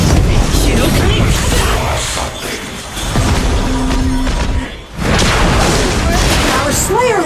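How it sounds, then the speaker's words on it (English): A tower is destroyed in the Arena of Valor mobile game: a loud, sustained booming explosion runs for several seconds, dips briefly, then swells again amid dense game effects and an announcer voice. "Your team has destroyed a tower"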